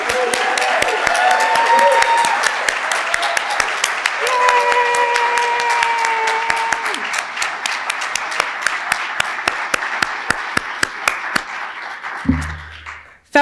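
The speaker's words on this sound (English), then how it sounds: "Please join me in giving them one more big round of applause" A big round of applause for the 2023 CLA fellow graduates at a leadership graduation celebration, sustained audience clapping with cheers and whoops on top, sharp individual claps standing out before it fades away.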